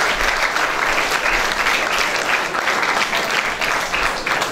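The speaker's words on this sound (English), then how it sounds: "So let's give a" An audience at a Rashtriya Poshan Maah nutrition campaign event gives steady, dense applause that lasts through the whole stretch without letting up.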